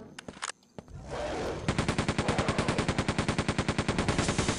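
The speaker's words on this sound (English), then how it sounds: "So this guy's got a hyper blaster too." Rapid hyperblaster fire in Quake 2 rattles out as a loud, evenly spaced stream of bursts, preceded by a few scattered shots and a brief rushing swell.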